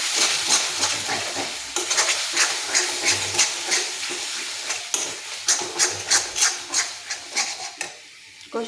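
Momo filling of boiled vegetables with coriander powder being stirred and fried in a pan, with a close, loud, steady sizzle and repeated scraping stir strokes in an irregular rhythm, no voices.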